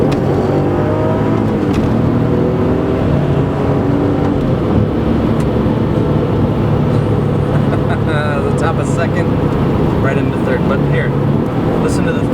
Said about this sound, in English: listen to the turbos just roll on in the third here